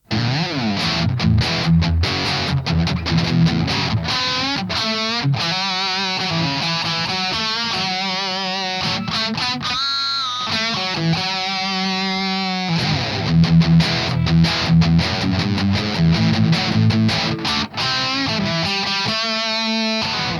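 An electric guitar played through a Positive Grid Neo headphone rig rings out loud and distorted for about twenty seconds, with busy strummed chords and melodic runs, a brief sustained pause near the middle, then more riffing.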